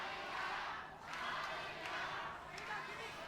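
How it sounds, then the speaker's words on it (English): A wrestling crowd chants "Tiger" in rhythmic, swelling waves, loud and steady throughout, with no talk over it. "Hear the crowd chanting Tiger"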